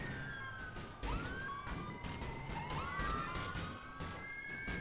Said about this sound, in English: Wow, that siren is...